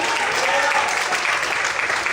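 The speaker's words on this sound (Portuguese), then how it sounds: "Irmão, todos podem aplaudir e exaltar o Senhor essa manhã" A church congregation applauds during a Sunday morning service, steady dense clapping filling the room from many hands at once, even in loudness from start to finish.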